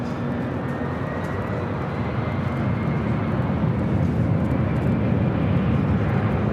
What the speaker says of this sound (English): Delta A321 in Neo now rolling down to 24 left